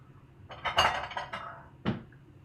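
Dishes and bowls clink and knock together in a home kitchen during stir-fry prep, a quick cluster of bright ceramic and metal clatters followed by one more distinct clink, close by with no talking.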